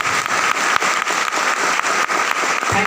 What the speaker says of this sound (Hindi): बस जोरदार ताली होनी चाहिए